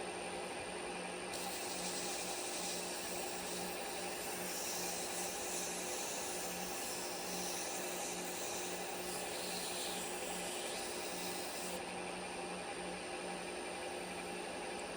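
Micro mesh sands a turned wooden pen spinning on a lathe, a continuous close whir with a soft brighter rubbing hiss over most of the stretch; no one speaks.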